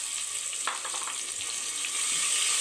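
Chopped onion and tomato frying in a hot pan, a steady close sizzle with soft scraping from stirring that grows slightly louder toward the end.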